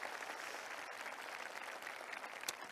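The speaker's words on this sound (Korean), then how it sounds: "우리 성남시청 공무원분들에게도 박수 부탁드리겠습니다." Steady applause from an audience at a talk concert, a dense even wash of clapping throughout with a sharper clap near the end.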